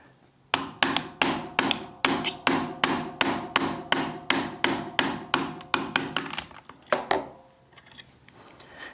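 Sharp, close hammer blows drive an 1/8 inch roll pin punch through a CZ P-10 pistol frame, about twenty evenly spaced metallic taps in a steady rhythm before a final few lighter strikes.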